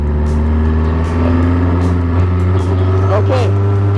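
Formula 1 car engine idling and rumbling steadily while a celebrity driver prepares for his first lap, a deep constant drone, with people talking and exclaiming over it.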